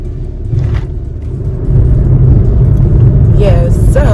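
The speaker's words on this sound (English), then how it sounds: "all the car needed was a new battery and it started running again" A car engine idles steadily after a battery replacement, a low continuous rumble that thickens partway through, with a few faint higher chirps near the end.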